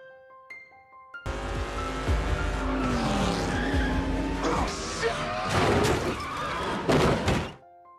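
A race car in a film loses grip on a spilled oil slick on the track, a loud, sustained tire skid with sliding squeals and rumbling engine, ending in heavy thumps before cutting off.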